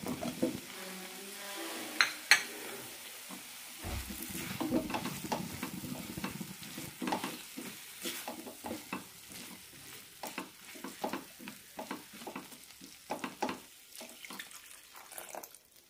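Drumsticks being sautéed in onion masala for a Kerala-style drumstick onion perattu, with a ladle stirring and scraping the pan in repeated close strokes over a low sizzle, and no talking.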